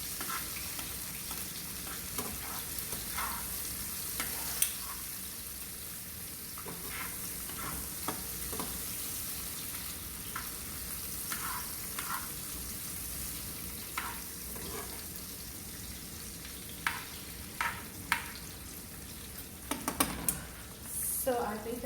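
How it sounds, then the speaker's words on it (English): Vegetables for a keto-style chicken lettuce wrap sizzling in a pan, a low steady fry punctuated by scattered scrapes and clicks of stirring, brief louder clatters near the end, with no talking over it. "So I'm just gonna go ahead and stir them around in the pan."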